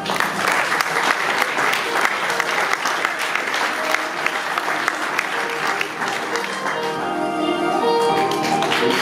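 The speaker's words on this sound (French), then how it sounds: "Sous applaudissements." Guests at an Air Côte d'Ivoire Airbus A320 delivery ceremony in Toulouse applaud, sustained, close, vigorous clapping throughout, easing slightly near the end with faint voices underneath.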